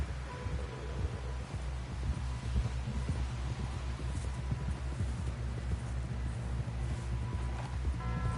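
Horse hooves clip-clop in a steady, close rhythm through the Red Dead Redemption 2 game world, a continuous trotting beat over a low hum with no talking.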